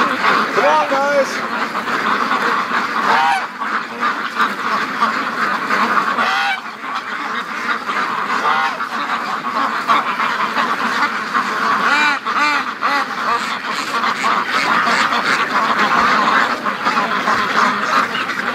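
A flock of free-range ducks quacks continuously and loudly nearby, a dense overlapping chorus, while a person calls to them.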